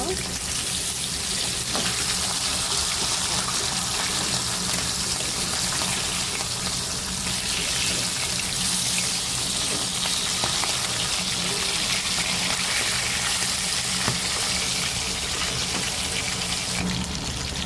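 Hilsa fish and eggplant sizzle in hot oil in a pan, a steady, dense, hissing frying noise that stays loud and continuous throughout with no breaks.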